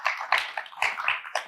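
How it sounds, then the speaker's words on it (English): Applause from a TV talk-show audience for an award-winning author, a short burst of clapping with uneven peaks that swells and fades, fairly close and alone. "Give her a round of applause."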